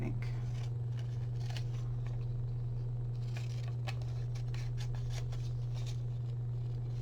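Scissors cut paper for a small vintage-style collage, giving a series of crisp, close snips and rustles spread across several seconds over a steady low hum, with a voice speaking at times.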